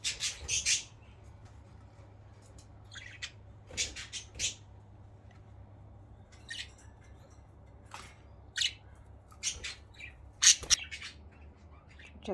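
Pet budgerigars squawk and chirp in sharp, scattered bursts, some close and loud, others softer, over a steady low hum, with no talking.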